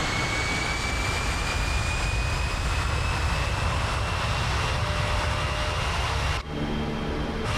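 Boeing KC-135R jet engines spooling to full takeoff power in Microsoft Flight Simulator, a loud, steady roar with a rising whine that holds evenly before a brief dip near the end, with no voices.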